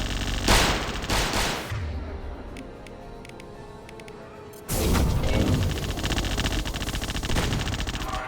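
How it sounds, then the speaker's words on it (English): Impact shot gunfire in Mass Effect 2 Legendary Edition combat, loud sustained bursts near the start, a quieter stretch, then a heavy renewed barrage of rapid shots that continues to the end. "Firing an impact shot."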